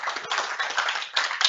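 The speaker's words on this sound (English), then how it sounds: "I'll give them a quick round of applause" A small group of colleagues in an office gives a short round of clapping for engineers who just presented, a brief quick burst with a slight dip partway through.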